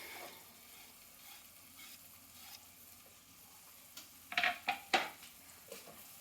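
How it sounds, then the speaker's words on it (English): A spoon stirring chopped capsicum and green chili through an onion-garlic butter gravy for pav bhaji on low heat, a faint sizzle under a few clear scraping clinks against the pan near the end. "keep stirring it till the capsicum blends into the gravy"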